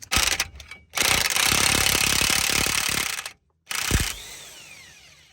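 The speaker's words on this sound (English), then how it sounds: "Got a 36mm socket here that I'm going to use to remove this nut" A 36mm socket on a power tool loosening the front axle nut of a RAM 1500, heard as loud close rattling hammering bursts, with a brief silence between them, then a spin-down.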